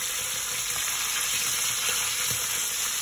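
Fish frying in a pan for a midday meal in Bacolod gives a steady, close, continuous sizzle with small crackles and pops throughout, with no voices over it.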